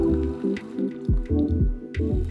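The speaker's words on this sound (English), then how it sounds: "Now what the carafe is doing is it's rinsing through the spout without altering the leftover milk that's on the inside." A De'Longhi Eletta Explore milk carafe runs its auto-clean rinse cycle, pushing water through the spout. It makes a steady, close, pulsing gurgle with dripping, sputtering bursts and no talk.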